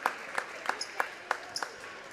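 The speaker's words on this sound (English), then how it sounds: "round of applause" Crowd at a high school basketball game applauding, with a few distinct hand claps standing out in a steady rhythm over a soft bed of distant clapping, fairly faint.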